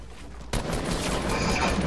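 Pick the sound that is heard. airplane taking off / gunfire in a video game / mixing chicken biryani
gunfire in a video game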